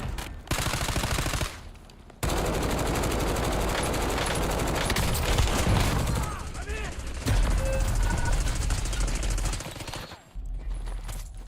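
Sustained automatic gunfire rattles in Call of Duty: Warzone, loud and dense, with short gaps between bursts and the firing continuing almost throughout, while game voice callouts sound under it.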